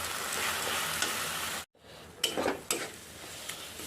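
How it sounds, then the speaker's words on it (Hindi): Spiced masala with turmeric frying in oil in a pan for a taro-leaf curry, sizzling loudly and steadily, breaking off abruptly, then returning softer with a few sharp clinks and scrapes of stirring. "इसको मैं 2 मिनट तक पकाऊंगी जब तक ये तेल छोड़ देगा"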